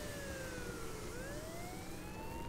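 A police car siren in the vehicle-building game Trailmakers dips and then climbs in pitch, a faint tonal wail over a dense steady engine rumble.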